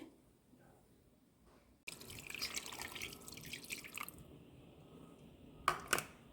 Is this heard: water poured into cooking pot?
yes